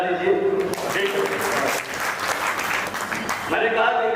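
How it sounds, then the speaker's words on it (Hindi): An audience at a comedy poetry show breaks into applause, a dense burst of clapping in the middle of the clip, with the performer's voice before and after it. "एक बार तालियां बजा दीजिए।"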